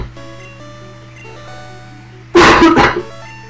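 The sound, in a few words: person coughing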